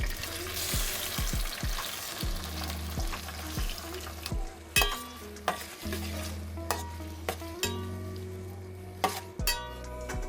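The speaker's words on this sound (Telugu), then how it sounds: "ఇప్పుడు 100 ml వేరుశనగ నూనె తీసుకొని కట్ చేసుకున్న టమాటాలని వేయించుకోవాలి." Cut tomatoes fry in peanut oil with a steady sizzle, broken by repeated sharp clinks and scrapes of a spoon stirring against the pan, close and fairly loud throughout.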